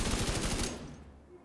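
Rapid automatic gunfire in the video game The Division 2, a loud dense burst of shots that cuts off abruptly and leaves a faint fading tail.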